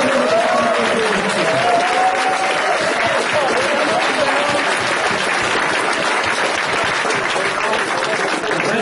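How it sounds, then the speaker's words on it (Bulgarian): Enthusiastic applause from a live audience at a seminar on meeting and seducing women, a loud, dense clatter of clapping sustained throughout with a faint voice underneath near the start. "Затова сега искам да направим едни бурни аплодисменти"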